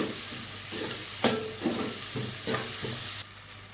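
Onions fry in a pan until browning, a constant close sizzle broken by a few stirring scrapes and soft knocks, with the hiss dropping slightly near the end.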